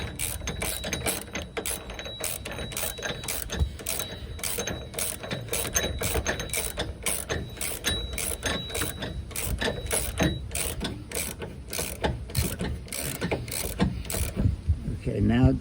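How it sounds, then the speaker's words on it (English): A ratchet wrench tightening a subframe bushing bolt on a 2008-2015 Nissan Rogue, giving a fast, even run of sharp mechanical clicks that carries on almost without a break for the whole stretch. "I'm going to get a ratchet wrench"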